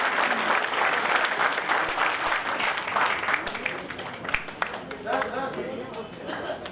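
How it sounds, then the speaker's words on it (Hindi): Enthusiastic audience applause at a Lions Club event in Delhi, a sustained dense burst of clapping from a crowd that gradually thins toward the end, with some voices mixed in. "जोरदार तालियां तो आपकी बनती हैं।"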